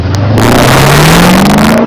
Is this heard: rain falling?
no